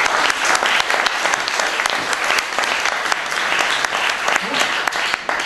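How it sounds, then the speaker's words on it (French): An audience applauds author Christine Orban at a literary evening, dense continuous clapping from a crowd, loud and close throughout. "que je vous demande d'applaudir."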